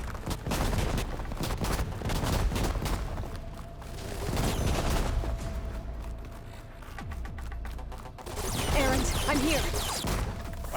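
A machine enemy opens fire in Horizon Forbidden West, with sustained loud bursts of rapid gunfire and booming impacts over a dense battle din, continuing throughout with brief lulls.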